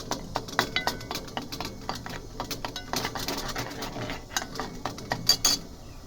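A homemade soap mixture stirred by hand in a vessel, with rapid, irregular clinks and scrapes of a utensil against the container, close and moderately loud, with no talk.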